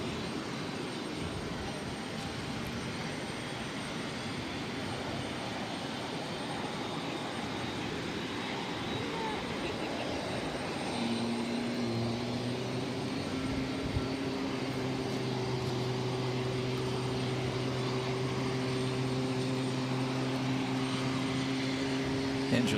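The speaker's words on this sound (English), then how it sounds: "Engine start up on that 737 Max 8." Boeing 737 Max 8 jet engine starting up at Boston Logan airport, a steady loud roar with a rising tonal whine that emerges partway through and holds, heard at a distance with faint radio chatter in the background.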